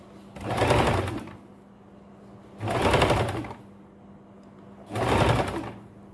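Sewing machine stitching a blouse, running in three separate bursts of about a second each with short quiet pauses between, steady and close with no talking.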